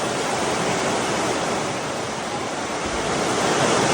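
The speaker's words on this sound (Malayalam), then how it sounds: "അതുപോലെ കാറ്റും അതുപോലൊരു മഴയുമാണ് വന്നടിച്ചത്" A steady, dense roar of heavy monsoon rain and wind fills the whole stretch, loud and unbroken with no voices.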